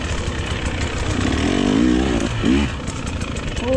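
A four-stroke dirt bike races through a hare scramble, its engine revving loudly and rising in pitch as it passes close by, with a second bike audible behind it.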